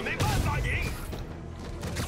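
Gunfire erupts in a Marvel's Spider-Man video game boss fight, a rapid cluster of booming shots and thuds rattling together over the game's background sound, with a voice talking over part of it.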